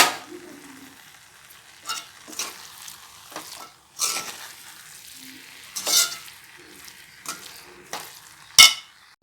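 Intermittent scraping and clinking of a utensil stirring soybean masala with grated coconut and coriander in a frying pan over a soft sizzling background, a few sharper knocks near the end.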